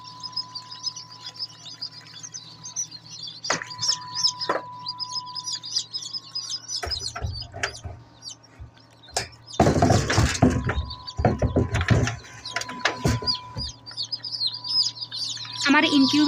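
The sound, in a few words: chicken chicks chirping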